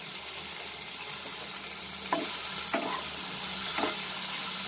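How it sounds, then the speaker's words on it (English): Chopped tomatoes land in a frying pan already holding garam masala, setting off a steady loud sizzle with a few sharp stirring scrapes spaced through it; no one speaks. "now I'm adding the chopped tomatoes"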